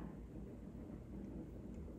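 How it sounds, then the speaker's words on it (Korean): Steady, heavy rain roaring continuously, a dense wash of sound with no pauses and no voices. "지금 비가 와가지고 빗소리가 아주 크게 나고 있어요"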